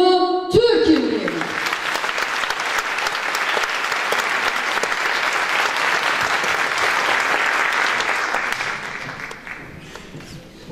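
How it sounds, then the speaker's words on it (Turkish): Sustained applause from a concert audience at the opening of a performance, a steady dense wash of many hands clapping that starts abruptly, holds loud and even for about ten seconds, then begins to fade. "O güzel alkışlarınız hiç durmuyor"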